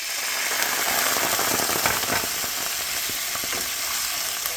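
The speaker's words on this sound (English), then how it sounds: "I'm going to start with the lemon juice." Lemon juice hits a hot pan left from cooking chicken over medium-high heat, giving a loud, steady sizzle dotted with quick crackles and pops throughout.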